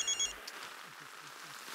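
A telephone rings with a brief, electronic double-pulse bell at the very start, then fades under a steady room hum and soft background sound in a sitcom household.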